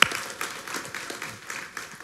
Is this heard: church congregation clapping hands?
yes